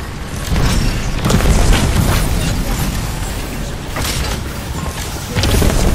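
A grenade goes off in a video game, producing a heavy, rumbling boom that fills the scene with low roaring noise, followed by another deep burst toward the end.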